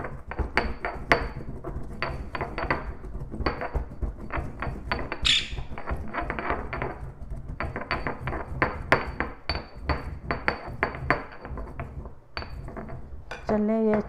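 Carom seeds (ajwain) being ground into powder in a kitchen grinder, heard as a dense run of rattling, clinking hits and scraping with brief pauses, close and fairly quiet.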